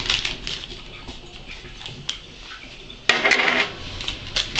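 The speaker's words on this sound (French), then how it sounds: "on va mélanger en fait notre farine avec notre levure" A spoon stirs flour and yeast together in a bowl for a mascarpone cake, with light scraping and a few sharp clinks against the bowl, one louder knock near the end.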